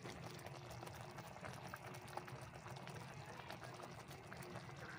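A steady bubbling simmer of mechado stew with green peas in a pot on the stove, continuous and moderately close, with faint kitchen noise and no one speaking.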